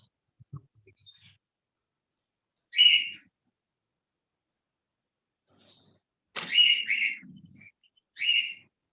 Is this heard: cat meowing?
no